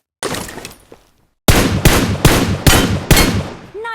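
Gunfire in the PUBG Mobile tutorial: a loud opening burst, a brief pause, then five evenly spaced heavy shots in quick succession, close and punchy, with a short ringing tail at the end.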